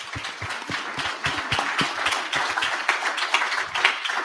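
An audience at a summit claps steadily, with dense, fairly close hand claps running the whole time and no talking over them.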